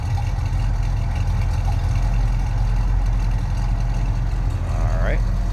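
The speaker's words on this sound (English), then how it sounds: "Hear that rumble coming out of that big block V8." Big block V8 in a 1972 Chevrolet Chevelle idles with a steady, deep rumble throughout, loud and continuous, with a brief faint squeak near the end.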